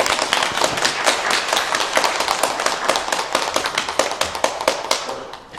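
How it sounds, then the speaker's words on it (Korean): A church congregation claps to welcome a newly registered couple during a Sunday service, a dense run of many hands in steady applause that stays fairly even, then thins slightly toward the end. "우리 박수로 한번 환영하겠습니다."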